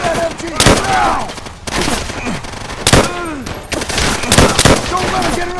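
Machine gun fire rattles in Call of Duty: World at War during a WWII Pacific raid on Makin Island, with sustained loud bursts and booming shots while soldiers shout orders over the battle.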